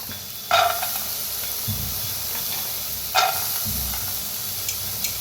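Onion and tomato being dry-roasted in a kadhai, with a steady close sizzle and hiss, soft stirring scrapes and a few sharper clatters of the spoon against the pan.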